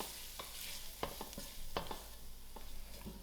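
Onions and masalas frying in a pan for dhal curry, with soft sizzling underneath while a spoon scrapes and stirs in quick, irregular strokes, close and quiet.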